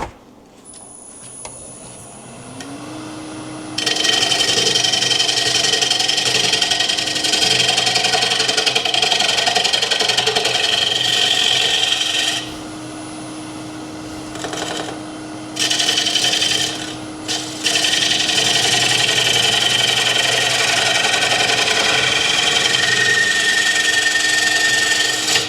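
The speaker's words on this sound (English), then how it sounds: "So let's cut this tenon" A bowl gouge with a 40/40 grind cuts a tenon on wood spinning on a lathe: loud, continuous rasping and scraping over the steady motor hum, with brief pauses and changes in pressure.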